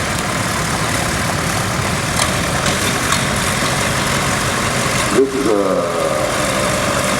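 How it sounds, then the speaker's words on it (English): A Ford Model 120 garden tractor idles at an outdoor farm power parade, its engine giving a steady, close, low rumble throughout while someone talks over it. "it's a Ford garden tractor. It's a Model 120"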